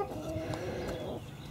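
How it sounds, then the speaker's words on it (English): Chickens cluck softly and steadily in a yard, close by and alone, with a brief murmur of low background noise underneath. "Hey, chicken."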